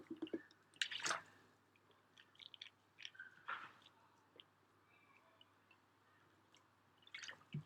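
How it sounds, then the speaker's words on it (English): Quiet wet sloshing and swishing as a mouth is rinsed with natural spring water, soft close squishes and drips in scattered bursts with pauses between. "just rinse my mouth out with natural spring water"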